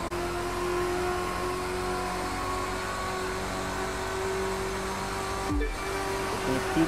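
Corvette engine in a racing game, a steady loud high drone held throughout, with a brief dip and shift near the end like a gear change.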